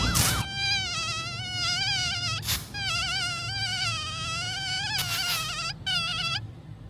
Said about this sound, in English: Anyone else has this mosquito?